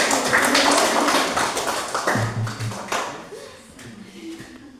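Classroom applause as a teacher's students clap for their group's results, dense and loud at first, then thinning and fading, with some speech mixed in.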